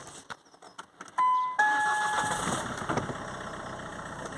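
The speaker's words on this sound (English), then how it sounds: "I'm going to start the car and see what's going on" A Ford Mondeo with a charging fault cranks briefly on a jump pack, with electronic dash chimes sounding, then catches and settles into a steady idle close by.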